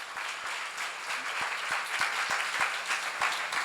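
Applause from a seminar audience at a church lecture, a steady, fairly soft wash of many hands clapping with a few distinct sharper claps.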